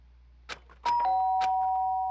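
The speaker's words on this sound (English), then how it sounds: "Did I hear the doorbell?" An electronic doorbell chime rings indoors: a couple of soft knocks, then a clear two-tone ding-dong whose second note holds and slowly fades.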